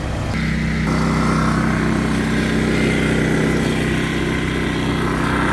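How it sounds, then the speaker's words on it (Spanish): A refrigerator motor runs with a loud, steady hum and drone that holds unbroken throughout. "ese ruido es el motor para que el refri trabaje y llene las cosas"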